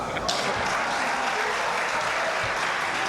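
An audience claps, a dense, steady wash of applause filling the whole moment at a constant loud level, with faint voices mixed in.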